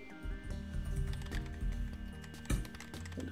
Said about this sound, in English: So simply just type the password